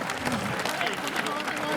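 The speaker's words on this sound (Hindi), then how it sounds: "तालियां होनी चाहिए भाई, क्या बात।" Audience applause at a Hindi comedy poetry gathering (hasya kavi sammelan), a steady wash of clapping from the crowd running throughout with voices mixed in.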